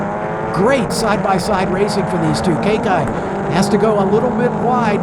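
JS F4 Series race cars climbing the hill at COTA during a SpeedTour race, several high-revving engines whining and shifting close together under loud race commentary.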